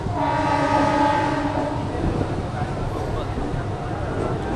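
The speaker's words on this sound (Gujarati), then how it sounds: "એની પછી અત્યારે મુંબઈની લોકલ ટ્રેનની સફર કરીએ" Mumbai local train in motion, a loud steady rumble of carriages with a sustained horn-like tone early on, heard from inside or close by, with voices mixed in the background.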